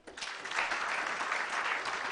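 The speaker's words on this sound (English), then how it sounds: "And I want us to clap for each and every one of them." Audience members at the Kenya Power Expo 2022 clap together in a steady, close, even burst that lasts about two seconds.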